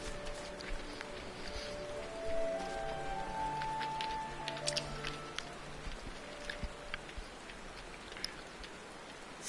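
Steady rain patters throughout a Final Fantasy XIV game scene, a continuous soft hiss of raindrops with faint tonal sounds drifting above it.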